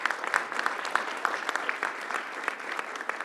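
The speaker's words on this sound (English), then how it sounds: "we could just go ahead and give a big round of applause to everyone" Attendees at a SANDAG board retreat give a round of applause in a meeting room, a fairly small group clapping with distinct, irregular claps throughout at modest volume.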